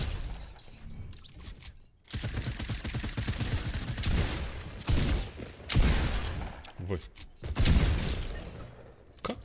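Gunfire in the video game Fortnite, rapid crackling bursts and sharp shots with shattering impacts, loud and repeated across several seconds with brief pauses.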